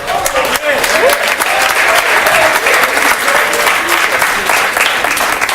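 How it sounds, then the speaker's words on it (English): A sports talk show studio audience applauds loudly and continuously, a thick crowd clapping with voices and scattered cheers mixed in. "Did I ask the crowd to please quit applauding everything this man says?"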